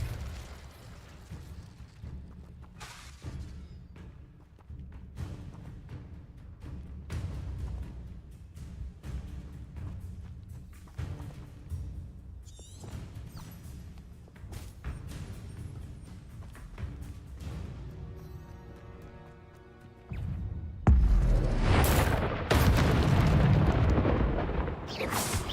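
Confringo explosive spell blasts in the Hogwarts Legacy video game, a run of repeated booming impacts and bursts with rumbling tails, growing into a dense, loud explosive barrage near the end, no talking.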